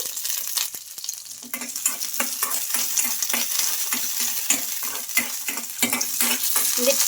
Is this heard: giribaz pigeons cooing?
no